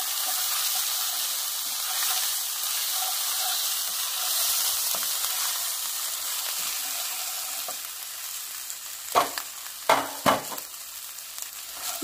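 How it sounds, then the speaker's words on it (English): Ginger paste and dry red chilies sizzle in hot oil, a steady bright hiss that runs throughout, with a few scraping stirs of a ladle near the end. "now cook it for 1 minute. Stir it well."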